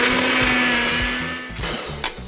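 A small blender whirs steadily as it mixes pineapple juice for a Dole Whip, a loud motor hum that wavers near the end and stutters into brief bursts before stopping.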